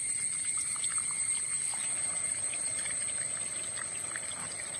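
Water pours and splashes steadily, a continuous trickling gush with no voices.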